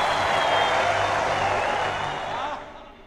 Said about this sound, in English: Let's have a warm round of applause for Glimmer!